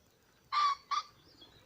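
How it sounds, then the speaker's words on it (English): A pheasant calls with two harsh, honking notes in quick succession, loud and fairly close against a quiet outdoor background. "There's a pheasant there"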